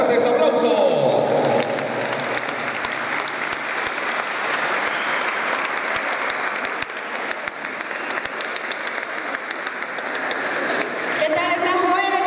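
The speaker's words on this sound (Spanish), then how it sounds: "Vamos a recibirla con fuertes aplausos" Loud, sustained applause from an audience welcoming a guest speaker, a dense wash of clapping lasting several seconds between brief stretches of talk at the start and end.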